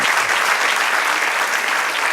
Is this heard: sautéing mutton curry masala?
no